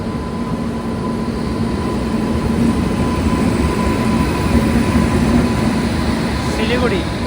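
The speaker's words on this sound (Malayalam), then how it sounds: "സിൽച്ചാർ ചർലപ്പള്ളി എക്സ്പ്രസ് ആണിത്" The Silchar–Charlapalli Express, bound for Hyderabad, rumbles steadily and loudly at Kamakhya station, with a continuous low drone and faint whining tones carrying through the whole stretch.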